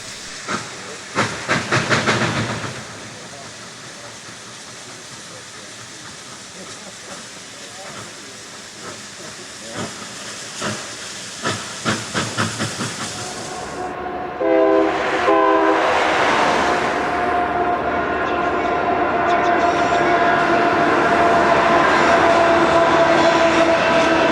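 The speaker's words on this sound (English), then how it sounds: "The combination of a flanged greaser and lack of sand in the locomotive causes 2472 to lose traction." Steam locomotive 2472 in Niles Canyon slipping for lack of sand on greased rails, with hissing steam and chuffing, then a GP9 diesel pushing; a horn sounds midway, all heard in the open at moderate distance, with people speaking.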